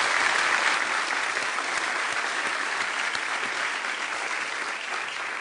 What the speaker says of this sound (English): please give him a round of applause for taking care of his friend.